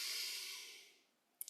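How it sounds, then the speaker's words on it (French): A single slow breath drawn in through the nose during a relaxation exercise, a soft airy hiss that fades gradually, followed by two tiny clicks at the end. "vous inspirez par le nez"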